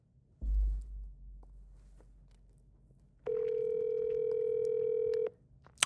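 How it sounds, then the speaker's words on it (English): A phone dials out during a call attempt, with a low thump at the start followed by a steady, loud dial tone of about two seconds that stops abruptly, with no talking over it. "Let's call him right now."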